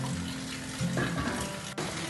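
Tamarind water being poured into a bowl for pani puri filling, a steady close splashing gush of liquid that runs for the whole two seconds, with a brief dip near the end.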